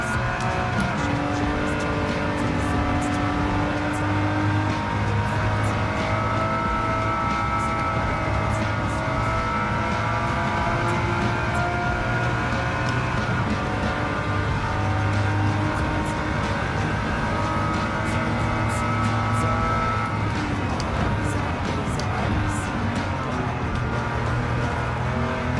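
Race car engine in Gran Turismo 7, loud and continuous, revving up and down through gear changes with tire squeal mixed in across the whole stretch.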